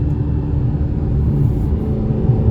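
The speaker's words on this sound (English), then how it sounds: "You're gonna hear the car." A Dodge Charger Scat Pack's engine and exhaust while driving, a loud, steady low rumble that fills the cabin without pause and carries no talk.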